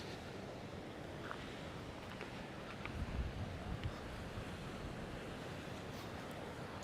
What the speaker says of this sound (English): Rough waves upon the Naxian Bay.